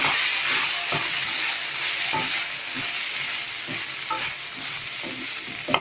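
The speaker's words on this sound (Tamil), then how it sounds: "இது சேர்த்து கலந்து விட்டுடலாம்." Brinjal fry stirred in a frying pan with cumin powder, chilli powder and coriander powder, a steady sizzle with repeated scraping stirs of the spoon throughout, close and continuous.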